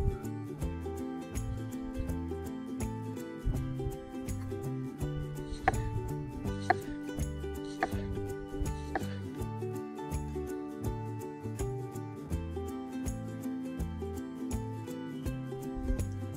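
Knife slicing tomatoes into rounds for basma cooked in a kazan over a campfire: repeated close soft cuts and taps on a board in a steady rhythm, with background hum underneath.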